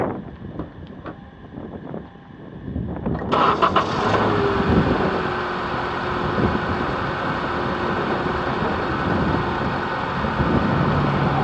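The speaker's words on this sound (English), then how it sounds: "Let's start up the engine." A 2014 Honda CR-V's 2.4L engine cranks briefly and starts, then settles into a steady, close idle that hums continuously to the end.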